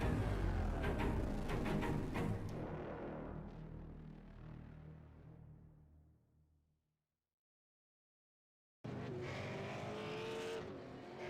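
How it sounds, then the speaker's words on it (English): Race cars in the iRacing simulator roar past loudly with engine whine and tire noise, fading away into silence before the engine sound returns abruptly for a few seconds. "This is the original esport racing game. This is iRacing."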